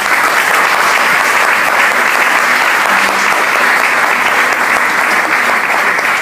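Loud, continuous applause from a church congregation filling the space evenly, a steady wash of many hands clapping without pause.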